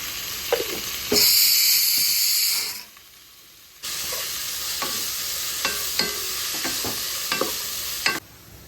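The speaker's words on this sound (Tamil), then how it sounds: "வெங்காயம் வந்து இன்னும் நல்லா வதங்கி வரட்டும்." Onions sauté in oil for mutton biryani with a loud, steady sizzle and hiss. A burst of stronger spitting comes early, then a short near-silent gap, then the sizzle returns with scattered scrapes of stirring.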